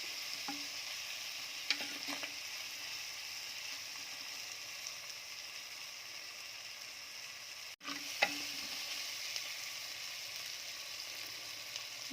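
A steady, fairly quiet sizzle from ingredients sautéing in a clay pot for sardine curry, with a few soft ticks and stirring knocks, continuing without pause apart from one brief dip.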